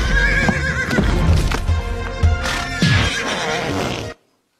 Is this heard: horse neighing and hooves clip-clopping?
yes